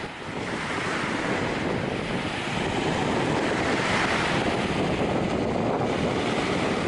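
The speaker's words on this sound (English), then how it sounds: "This is the mouth of the Brule River here in Wisconsin." Steady surf rolls in at the mouth of the Brule River on Lake Superior's Wisconsin shore, a continuous broad wash of breaking waves with wind buffeting the microphone throughout.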